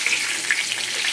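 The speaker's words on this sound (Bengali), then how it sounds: "এই যে হালকা ভাজা ভাজা হচ্ছে।" Pointed gourd slices frying in hot oil give a steady, close sizzle with soft crackling throughout, no voices over it.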